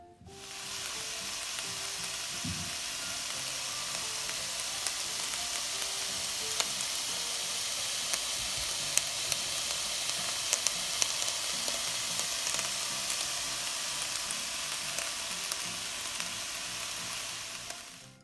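Vegetable fried rice with scallions sizzles steadily as it is stirred in a hot pan, a loud, continuous close hiss with occasional faint spatula scrapes and ticks.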